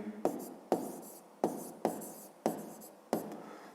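Pen or pencil writing by hand on paper while working a fifth-grade maths exercise, a quiet close scratching in six short strokes that each start sharply and fade, with no talk.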